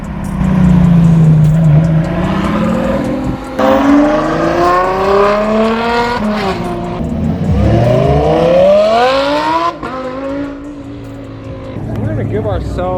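A straight-piped BMW M4 F82 with a very loud exhaust revs up and down close by in repeated rising and falling sweeps, with sharp drops between pulls and a voice talking over it at times.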